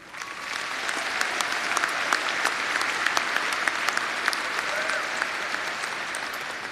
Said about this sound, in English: Please join me again in applauding the faculty for their service to OSU